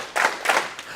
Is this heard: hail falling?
no